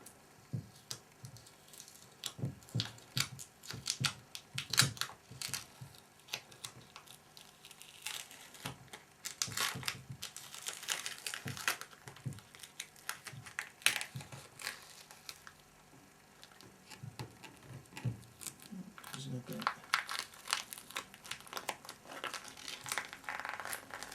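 Masking tape peeled in repeated crackling, tearing pulls from a mould made with an inflation bladder, close and fairly loud, with bursts of crinkling and short pauses throughout.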